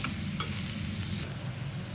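Onions frying in a pan over low heat, after dried chillies, hiss with a constant close sizzle and light stirring, with no voices.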